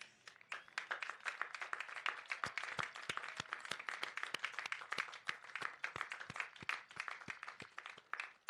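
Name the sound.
graduates' round of applause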